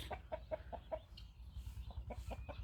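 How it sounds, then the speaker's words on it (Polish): Chickens cluck in short, rhythmic bursts close by, a steady run of clucks with a brief pause in the middle, over a low rumble. "A tutaj proszę, mamy kury."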